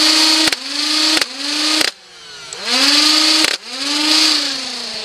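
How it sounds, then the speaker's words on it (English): A modified Nerf Rival Zeus blaster, overhauled electronically and converted to full auto, revs its flywheels with a rising whine and fires in several short bursts, loud and close, each burst cutting off sharply. "just show you how much harder this thing hits and how much faster these guys rev"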